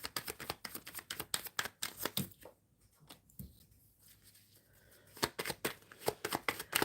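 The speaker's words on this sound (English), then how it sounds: "Shuffling for Helga. Shuffling for Helga" Tarot cards being shuffled at a close distance, a rapid run of crisp riffling flicks that stops for a short pause and then starts again.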